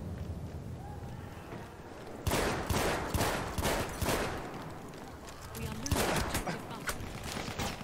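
Several shotgun blasts in Battlefield 1 fire amid other gameplay noise, with broadband bursts at about 2.3, 3, 4 and 6 seconds that are loud but partly blend into the surrounding din.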